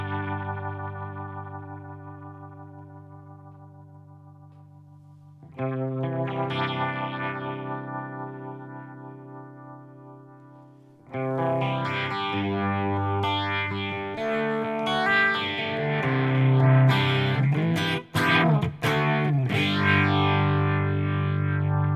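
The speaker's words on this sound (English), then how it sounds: "we're going to go with a rotary speaker 122." Electric guitar run through a rotary speaker 122 effect on a Fractal modeling unit, sustained chords with a swirling, shimmering chorus-like warble, building from a sparse opening to fuller, louder strummed passages, played alone without talk.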